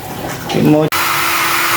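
A hair dryer drying kittens after a bath blows with a steady whooshing roar, briefly cut off and restarted, while a voice sounds faintly beneath it at first.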